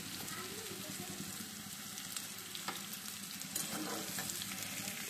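Small river fish fry in a pan with chili powder and turmeric, a soft continuous sizzle with occasional stirring scrapes, fairly quiet, with faint voices in the background.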